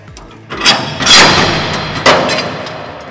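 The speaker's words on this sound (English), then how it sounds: "Quick release, and we have our quick clamp off and ready to go" An EFCO Quick Clamp released from steel formwork: a sharp metallic knock followed by a ringing clatter, then a second hard strike, loud and close.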